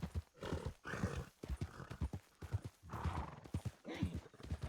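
Horse hooves thud in a galloping rhythm in a Red Dead roleplay game, close and loud, with snorting and a whinny alongside the hoofbeats.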